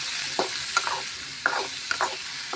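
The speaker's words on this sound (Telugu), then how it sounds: "టమాటాలు ఇలా మనం కొద్దిసేపు ఫ్రై అవనిద్దాం" Tomatoes frying in a pan for a brinjal and cherry tomato chutney, a steady soft sizzle broken by several sharp scraping stirs of a spoon against the pan.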